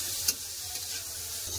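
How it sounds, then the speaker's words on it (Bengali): Boiled radish greens hiss and sizzle steadily in a pan with fried onion, green chili and garlic, a continuous frying crackle with a brief sharper clink near the start. "এবার সিদ্ধ করে রাখা শাক দিয়ে দেবো, মূলা শাক। এবার খুব ভালো করে ভেজে নেবো।"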